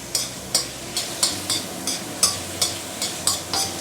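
Prawn shells being stir-fried in a pan over medium-high heat, with a quick regular series of scraping stirs about twice a second over a low sizzle, close and without talk.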